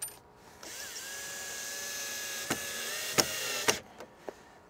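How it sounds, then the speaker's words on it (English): Power drill pre-drilling screw holes in a wooden tailgate table, a steady whirring motor run of about three seconds with a few sharp knocks near the end, then quiet. "we're gonna pre-drill these as we go so that I don't accidentally split this thing"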